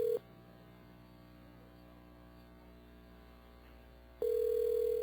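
A steady electronic telephone tone hums loudly at the start, drops out for several seconds leaving a quiet line hum, then returns abruptly.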